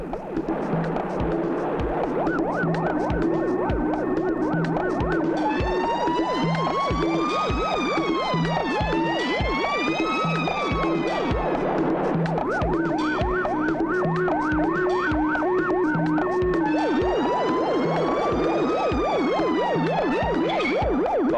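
An ambulance siren from a Telugu film chase scene wails loudly and continuously, its rising and falling tones repeating without a break across the whole stretch.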